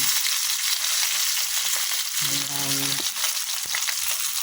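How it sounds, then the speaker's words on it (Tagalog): Maya-maya fish sizzles and crackles steadily in hot oil, a dense constant frying hiss throughout, with a brief low hum partway through. "Ganito rin po ba kayo mag-prito?"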